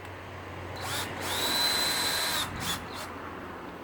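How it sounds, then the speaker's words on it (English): A power drill drives a screw for a zip tie mount into a tree outdoors, whirring in a steady close burst that rises in pitch, then short stuttering pulses as the screw seats. "all you do now is you go and you screw that zip tie"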